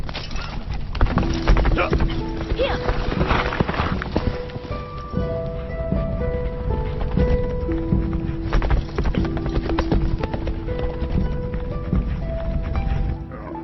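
Horse hooves clip-clopping in a dubbed Hollywood action movie, a steady run of close hoofbeats lasting throughout, mixed with a musical score.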